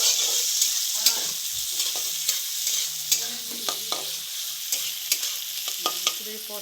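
Onions and chopped tomatoes frying in a pan, with a constant close sizzle and regular sharp knocks of a spoon stirring and scraping against the pan.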